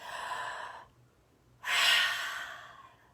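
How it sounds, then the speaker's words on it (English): Children in a preschool yoga class take a big deep breath, a long breathy exhale that fades into a pause, then a loud, close inhale that trails off slowly. "we're going to take a big, big breath"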